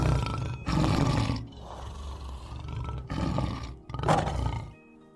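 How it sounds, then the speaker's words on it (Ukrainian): A lion roars in deep, powerful bursts that rise and fall over several seconds, with rumbling grunts between the louder swells before fading out at the end. "Рик лева настільки потужний, що поряд з ним буквально здригається повітря"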